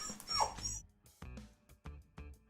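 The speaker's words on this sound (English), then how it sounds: "You'll have to forgive the dog." A dog whimpers and yips in high, plaintive whines at close range, followed by quieter intermittent whimpers.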